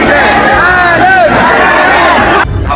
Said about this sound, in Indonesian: Kedatangan Anies disambut meriah oleh pendukung dan kerumunan ribuan warga Aceh hingga berdesakan